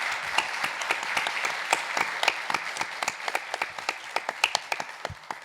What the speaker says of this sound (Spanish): un aplauso a estas dos personas maravillosas